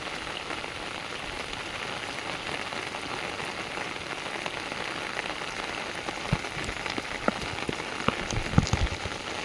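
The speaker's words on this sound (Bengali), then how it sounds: "আমি তো এমনি ভিজে গেছি, যা বৃষ্টি হচ্ছে।" Heavy rain pours steadily on an open field, a dense continuous hiss of drops with occasional louder close splats and patters toward the end, no talking.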